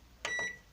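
A microwave oven keypad sounds a couple of short electronic beeps as a timer is programmed, close and clear against a quiet room.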